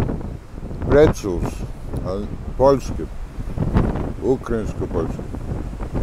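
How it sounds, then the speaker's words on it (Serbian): Outdoor wind buffeting the microphone as a continuous low rumble beneath someone talking throughout. "Duva vetar"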